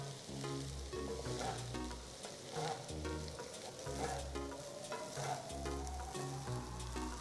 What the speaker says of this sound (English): Stir fry it on medium flame.